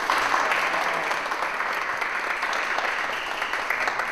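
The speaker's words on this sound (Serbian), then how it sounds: "ajdemo opet aplauz" Guests at a baptism celebration keep up sustained, even applause, a full steady wash of clapping hands with no pauses.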